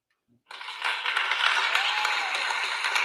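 Applause after a Showtime boxing card rises suddenly from silence into a steady, dense wash of clapping that holds evenly throughout, moderately loud and without any clear speech.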